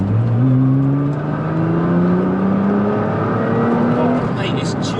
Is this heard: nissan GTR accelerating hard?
yes